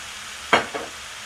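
Soy sauce poured into pork fried rice in a hot pan sets off one sudden sharp sizzle burst, followed by a smaller second hiss that quickly fades back into a low background.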